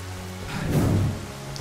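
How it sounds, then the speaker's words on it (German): Steady rainfall in the co-op video game Lara Croft and the Temple of Osiris, a dense hiss of falling rain that swells briefly in the middle over a low background hum, with no voices. "Regen und Schlimmeres."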